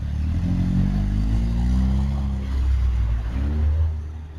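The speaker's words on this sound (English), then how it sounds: "He gets back inside and the red car pulls off." A red car pulls off, its engine a loud, close, rumbling drone that rises and shifts pitch as it moves away.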